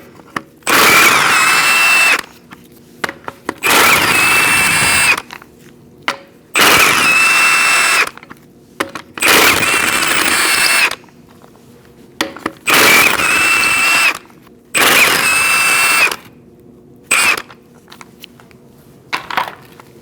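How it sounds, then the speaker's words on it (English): A loud power tool with a 19mm socket runs in seven bursts of a few seconds each, whirring and rattling as it spins off wheel lug nuts on a 2004-2012 Chevrolet Colorado, with quiet gaps between. "Using a 19mm socket, we're going to remove our wheel."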